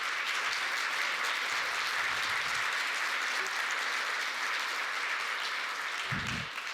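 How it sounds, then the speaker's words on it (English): Applause at a community alliance meeting, a steady, even wash of many hands clapping throughout, moderately loud, with a few low thumps and no speech on top. "I just want a round of applause for this group of people."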